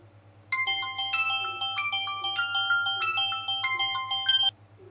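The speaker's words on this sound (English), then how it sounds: "And then my mobile phone was ringing." A mobile phone ringtone plays a bright, repeating electronic melody for about four seconds, clear and close, then stops.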